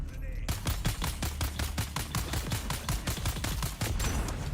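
Rapid automatic gunfire in the video game Dune Awakening, a steady burst of evenly spaced shots lasting several seconds, loud and close, with no talk.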